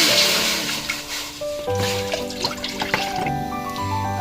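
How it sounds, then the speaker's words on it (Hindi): Water pouring and dripping into a cooking pot on a stove, gurgling splashes and drips close up, with a bubbling, rising fill. "और इसमें हमने तकरीबन आधा लीटर पानी डालना है।"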